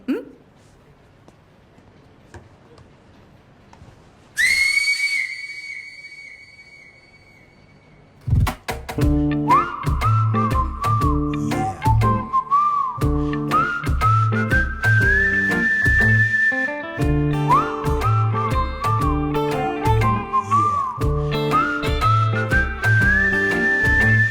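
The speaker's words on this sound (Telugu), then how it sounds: "అయితే హాఫ్ టైం విజిల్ని కొట్టేద్దాం." A single sharp whistle blast signals half time, loud and steady for about three seconds, then cuts off before music begins.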